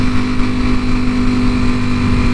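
A Ducati motorcycle engine drones steadily during a ride, a loud, close, even rumble with a strong steady tone and wind noise, with no speech.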